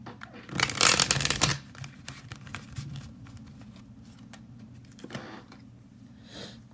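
Tarot cards being shuffled by hand, one loud, close riffling burst lasting about a second, followed by softer scattered taps and card slides, then another short shuffle near the end.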